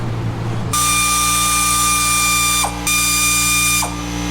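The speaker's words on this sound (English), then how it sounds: "right now Cam's just loosening that little retainer on the distributor" A ratchet loosening the distributor retainer on a 5.9L Magnum V8 engine, a loud close buzzing run of rapid clicks that pauses briefly and resumes, with no talk.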